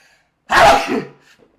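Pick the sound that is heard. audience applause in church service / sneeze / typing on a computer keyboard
sneeze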